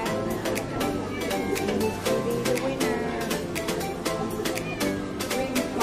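Cats meow at a cat show, their calls rising over a busy, echoing hall full of steady background noise and people talking.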